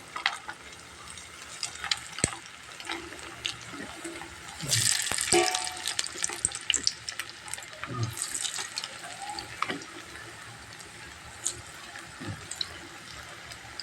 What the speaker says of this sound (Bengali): আর কয়েকটা আমি ভেজে নেব